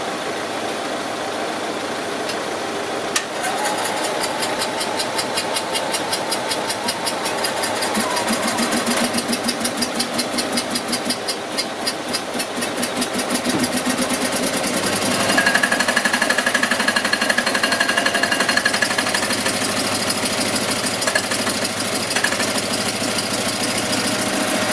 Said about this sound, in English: One cylinder definitely firing.